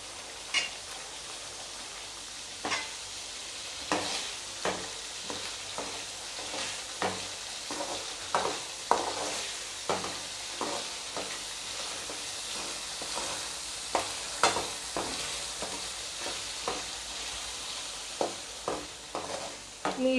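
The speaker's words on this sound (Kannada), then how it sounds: "ಇದನ್ನು ಈ ರೀತಿ ಫ್ರೈ ಮಾಡ್ಕೋಬೇಕು" Masala for Kolhapuri misal sizzles softly in a pan over medium flame, with a spoon stirring and scraping in irregular taps throughout, close and fairly quiet, no talking.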